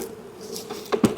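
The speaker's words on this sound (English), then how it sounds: "all these bees" Honey bees hum faintly around a brood box, a thin steady drone broken near the end by two brief louder knocks or handling sounds.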